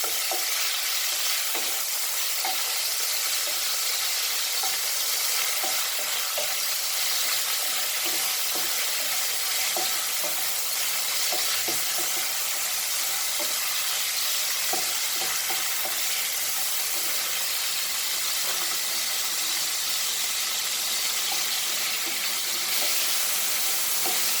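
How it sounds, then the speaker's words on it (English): Continuous loud sizzling of chicken frying in a pan over high flame, with occasional stirring scrapes and clinks, steady throughout with no voices. "High flame, I am frying this."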